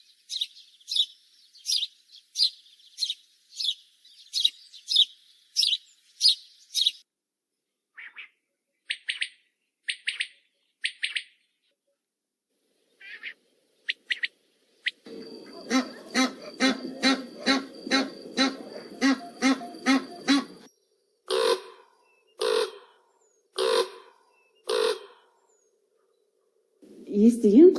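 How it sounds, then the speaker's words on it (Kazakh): A recording of assorted bird calls plays for a children's listening task: quick repeated chirps and tweets, then a run of honking goose-like calls, with pauses between each bird, fairly faint. "Естіген құстардың үні арқылы қандай құстар екенін ажырата алдыңдар ма?"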